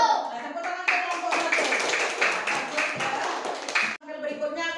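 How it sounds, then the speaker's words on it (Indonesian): A group claps in sustained applause for about four seconds during a school coaching session, loud and close, then it stops abruptly and a voice begins speaking. "Tepuk tangan ke kelompok"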